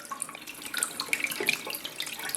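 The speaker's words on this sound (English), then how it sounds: "so now I'm running my hand under cold water" Cold water from a tap runs over a burned hand in a sink, a steady close splashing hiss with small bright droplet spatters throughout.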